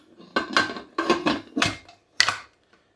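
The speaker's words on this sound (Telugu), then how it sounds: "కుక్కర్ మూత పెట్టుకొని" A pressure cooker lid being fitted on a pot while boiling goat trotters for paya: a quick series of four or five close metallic clanks and scrapes, followed by a short final clack.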